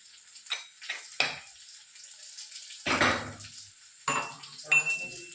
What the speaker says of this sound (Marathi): हे बघा, कांदा हा असा परतलाय.